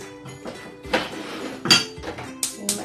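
Fried chicken batter is mixed in a bowl with clinks and knocks of a utensil against the bowl, in a few uneven, close strikes and scrapes without talk.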